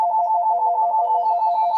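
A phone rings with a bright electronic warbling tone that repeats in quick, even pulses, steady and fairly loud, with no voices over it.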